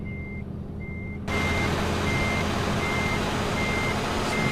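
Truck reversing alarm in a driving simulator game, steady evenly spaced beeps over a constant engine rumble that grows louder partway through.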